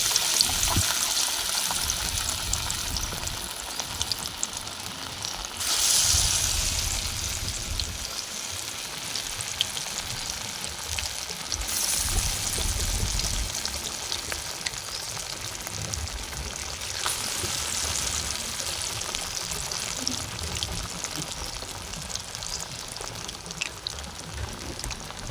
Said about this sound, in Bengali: এবং তেলটা গরম হয়ে গেছে, আমি এই যে এইভাবে গোল করে শেপ করে নিয়েছি। এইভাবে আমি সবগুলো বড়া ভেজে নেব।